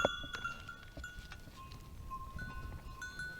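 Angora goats on a long-established mohair farm in Ayaş, heard as a close, busy farmyard scene with bleats and tonal calls repeating over a continuous low rumble of livestock movement.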